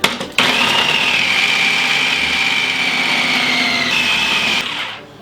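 Food processor grating Savoie tomme, comté and emmental cheese for a gratin savoyard: a loud, steady whirring motor hum that starts abruptly, runs evenly for several seconds, then winds down.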